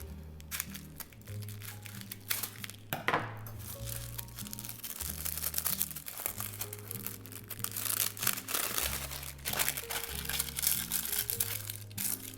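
Circles of lining are cut to fit a cake pan, giving close, crisp crinkling and snipping with scattered rustles and short tearing scrapes in an uneven rhythm.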